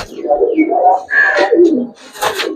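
Giribaz pigeons in a loft coo close and loud, a few rolling, throaty calls in a row, with a rustle and a brief voice near the end.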